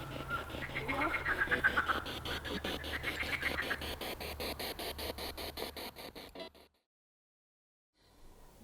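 Toads croak outdoors at night near a castle, a fast rhythmic trilling chorus of pulses that runs steadily for several seconds, then breaks off into near silence before faintly resuming.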